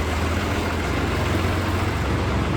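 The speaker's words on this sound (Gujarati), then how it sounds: "Tractor Holland." A New Holland tractor engine idles nearby, a steady, loud, unbroken rumble with a low throb and no talking.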